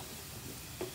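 Onions fry in a stainless steel wok with a faint, steady sizzle and one soft clink of stirring near the end; no speech.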